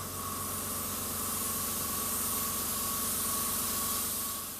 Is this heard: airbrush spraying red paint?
yes